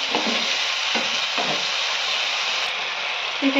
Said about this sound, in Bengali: মশলাটাকে ভালো করে নেড়ে চেড়ে কষিয়ে নিতে হবে যতক্ষণ না এর গা থেকে তেল ছাড়ছে